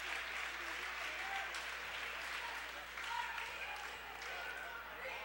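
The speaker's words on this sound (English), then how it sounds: "Garrett should get quite the round of applause." A high school varsity boys basketball crowd in a gym claps in sustained, even applause, a dense wash of hand claps heard at a distance with a faint murmur of voices underneath.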